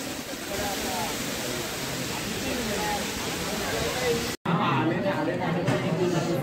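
A waterfall near the Ekvira temple at Lonavala roars steadily as a broad, rushing wash of water, with voices and chatter mixed in and a brief cut just past the midpoint.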